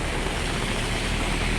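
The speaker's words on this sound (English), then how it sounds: "the rain is pouring at this moment. The river is rising" Heavy rain pours beside a rising river near a flooded bridge, a dense, steady hiss and rush of water with no breaks, loud and close.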